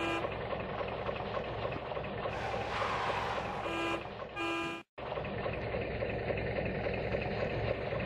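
Cartoon tractor engine sound effect from a children's animated series about a green tractor ploughing a field: a steady rumbling engine with horn-like toots midway and a brief dropout near five seconds, no talking.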